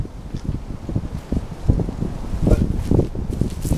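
Strong wind buffets the microphone in uneven gusts, with low rumbling bursts and rustling that swell and fade throughout.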